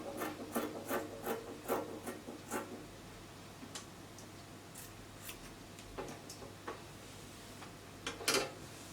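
Scissors cut dress fabric in a series of crisp, close snips and rasping slides, quick at first and then more spaced out, against quiet room tone.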